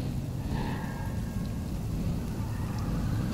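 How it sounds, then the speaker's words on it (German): Steady rain falls in the Watch Dogs 2 game world, a constant, even hiss of drops with a low rumble underneath, continuous and moderately loud with no talking. "Mir fällt es gerade auf, dass es regnet."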